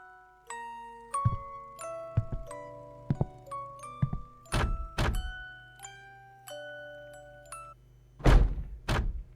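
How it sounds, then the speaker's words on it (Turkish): A heavy door slams in the video game Can't Revert, several loud booming thuds spread across the clip among ringing tonal game effects and resonant chimes. "Gene kapı yüzümüze kapattı."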